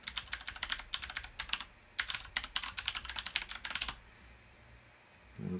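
Computer keyboard and mouse clicking while paging through screens: bursts of rapid clacking keystrokes and clicks in quick clusters, close and crisp, stopping near the end.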